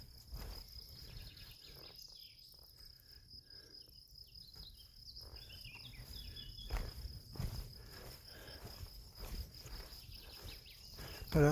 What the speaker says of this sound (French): C'est pas sympa ça, ces petits grillons?